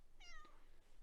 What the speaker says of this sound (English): I don't know if you can hear her meowing